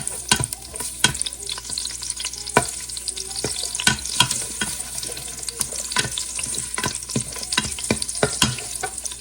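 Garlic frying in hot oil for a Filipino nilagang corned beef dish, a steady crackling sizzle with sharp clicks and taps of a utensil against the pan, close and clear, with no talking.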